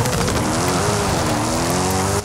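Race car in Forza Horizon 5 downshifting quickly into second gear for a sharp turn on a rally run, a loud continuous engine note shifting pitch with tire noise, close and alone.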